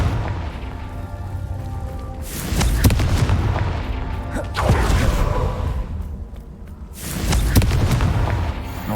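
Three heavy blasts from the Confringo fire spell in Hogwarts Legacy, each a deep booming explosion with a whooshing tail, spaced a few seconds apart and loud against a low rumbling backdrop.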